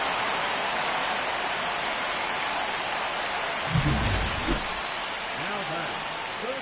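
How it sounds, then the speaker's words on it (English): Steady rain pours down at a baseball game, a constant hiss throughout with a couple of brief low thumps partway through and faint voices in the background. "This rain is not letting up."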